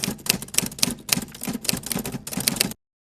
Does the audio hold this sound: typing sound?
yes